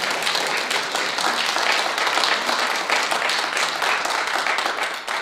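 An audience at a spiritual center service claps dense, sustained applause for several seconds after a talk. The sound is loud and fills the room evenly.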